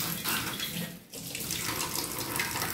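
Running tap water rinses a kitchen surface being cleaned with baking soda, a steady close hiss of flowing water splashing into a sink, briefly interrupted about a second in, with no talk.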